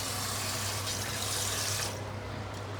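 Running tap water pours steadily over cabbage and vegetables being washed in a kitchen sink, a close, continuous hissing splash that thins slightly near the end.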